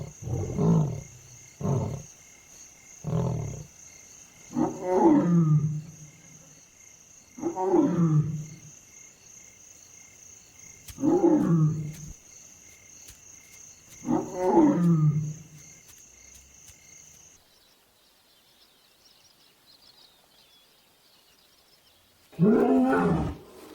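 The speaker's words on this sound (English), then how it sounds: "Roars carry further after dusk, when the stillness of the air allows the sound to travel a greater distance" Lions roar at night in the wild, a sequence of deep, loud, drawn-out bellows repeated in slow succession, then a still pause before one more powerful roar closes the call.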